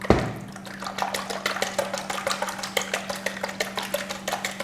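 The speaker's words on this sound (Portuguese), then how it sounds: "Eu vou colocar os 2 ovos aqui e vou bater bastante." Two eggs beaten hard by hand with a whisk in a bowl, a steady run of quick rhythmic clicking strokes close up, with a faint constant hum underneath.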